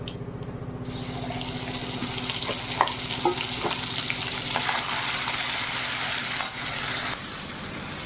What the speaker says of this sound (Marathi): खोबरं भाजायला चालू आहे.